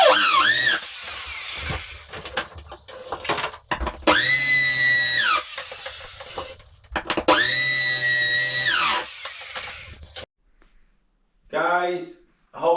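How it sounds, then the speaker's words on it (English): Power drill boring a 6mm hole through tile while fitting an Aqualisa Sierra thermostatic bar mixer shower: two loud sustained whining bursts with a steady pitch, separated by pauses and handling noise, then quieter clatter near the end. "Guys, a hole is drilled"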